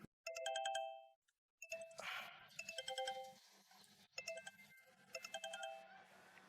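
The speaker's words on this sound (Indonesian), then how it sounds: "Yang bunyi HP saya." A mobile phone rings with a bright repeating electronic melody of quick ding-like notes in short bursts, separated by brief pauses. Faint low thumps sound under it.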